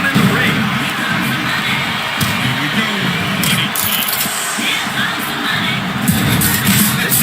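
Arena crowd in the WWE SmackDown vs Raw 2007 video game cheering and shouting continuously, a loud, busy roar with bursts of yells and occasional bangs, voices mixed within the noise.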